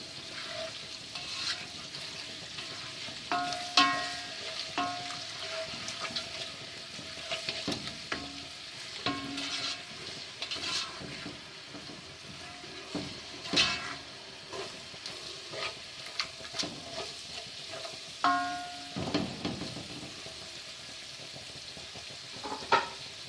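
Ginger garlic paste sizzles and fries in a pan for aloo chicken shorba, a steady crackling hiss with intermittent scraping stirs and brief louder bursts.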